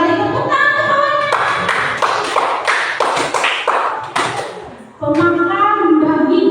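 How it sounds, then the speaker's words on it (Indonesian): Classroom of students clapping together on cue, a burst of quick overlapping hand claps with some taps and thumps, alongside a teacher's speaking voice. "Tepuk tangan semuanya."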